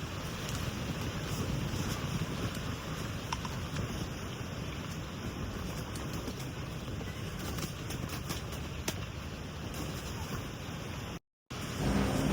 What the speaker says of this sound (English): Oh, you can probably hear that wind howling outside.